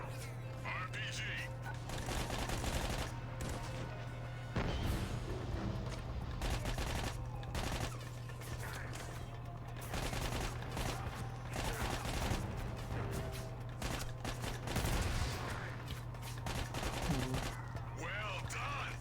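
Rapid bursts of mounted-gun fire in Army of Two: The 40th Day, loud and sustained over a steady low hum, with scattered shots and voices talking throughout.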